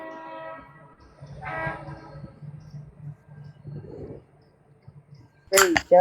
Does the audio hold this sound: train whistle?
yes